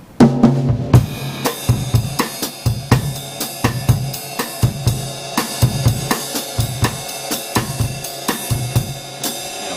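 A small-combo bossa nova groove plays as a Latin feel, with steady evenly spaced rhythmic hits, a low bass pulse and sustained chordal tones, moderately loud with no talking.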